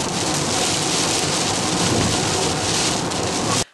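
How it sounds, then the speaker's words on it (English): Steady rain falls in Machynlleth, Wales, a dense, continuous hiss of drops on surfaces close by that holds even throughout and cuts off abruptly at the end, with no voices. "The rain came, inevitably."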